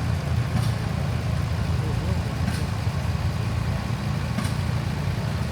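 A 1968 Allis-Chalmers D21 Series 2 tractor engine idles with a steady mid-low drone in an outdoor equipment parade. It is continuous and fairly loud, with an announcer's voice over it.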